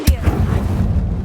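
Fire spell blast in the game Hogwarts Legacy, a single sharp, loud burst at the very start followed by a short rumbling tail.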